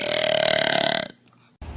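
A woman lets out one long, loud, droning burp lasting about a second, close to the microphone, followed by a short quiet gap and then a burst of sound.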